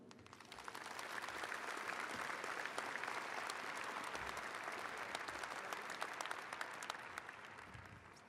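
An audience at a graduate commencement ceremony applauds after a speech, a steady, even wash of many hands clapping that holds without a break, somewhat distant and soft.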